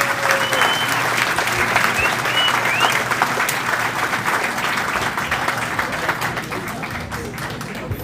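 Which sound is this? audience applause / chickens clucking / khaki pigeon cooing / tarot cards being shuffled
audience applause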